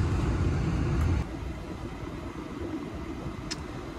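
A 2002 Volkswagen EuroVan camper van drives along, giving a steady low engine and road rumble from inside the cabin that drops a little in loudness after the first second.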